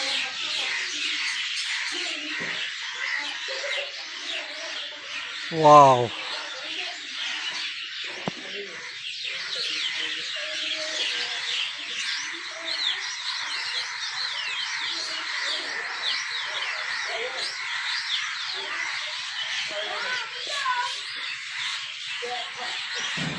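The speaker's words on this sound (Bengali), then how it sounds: "পাখির চেঁচামেচি সত্যি অসাধারণ" Sparrows chirp steadily in a lively chorus. Partway through, a person briefly exclaims over the birds.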